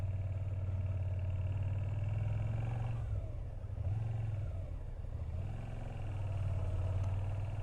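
A car grinds up a very steep road in first gear near St. Mawes in Cornwall, its engine a steady, loud, low drone that wavers briefly midway and holds on with no one speaking.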